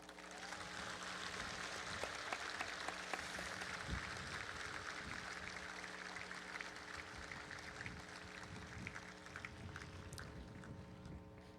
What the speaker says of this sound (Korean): 그 그리운 마음을 우리 따뜻한 박수로 잠깐 달래보고 갈까요?